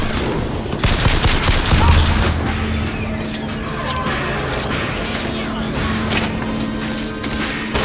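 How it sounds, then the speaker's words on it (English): Video game gunfire rattles in loud, rapid, continuous bursts, a dense clatter of shots filling the scene. "Oh, oh, something's shooting me. Something's shooting me."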